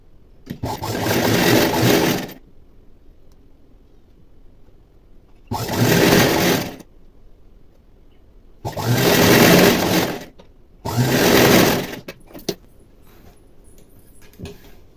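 A sewing machine stitching plain blouse fabric runs in four loud bursts of a few seconds each, separated by quiet pauses, close up with no talking over it.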